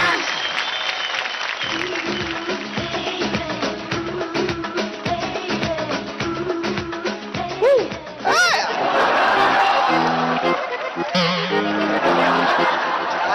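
A studio audience on the Dance India Dance stage applauds after a performance, bursts of clapping with chatter and light laughter, a host's voice speaking over and between the applause.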